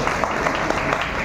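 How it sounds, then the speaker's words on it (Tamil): An audience at a concert and speech event applauds, a dense, steady wash of clapping that stays loud and even throughout the short stretch. "பலமாக அதற்கு கைத்தட்டி கொண்டிருக்கின்ற"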